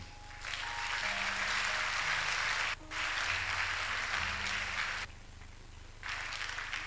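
An audience applauds at a matriculation ceremony, steady sustained clapping with brief pauses, moderately distant and filling the room.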